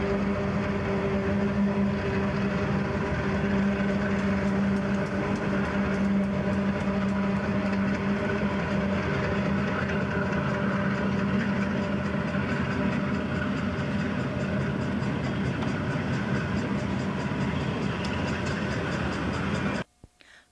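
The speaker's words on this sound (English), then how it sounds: "now let's watch as these LMX engines pull a load to market" LMX diesel locomotives hauling a freight train, a steady droning engine rumble with a constant hum and rolling rail noise that stays level throughout before cutting off abruptly at the end.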